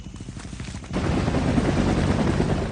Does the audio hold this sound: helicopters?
yes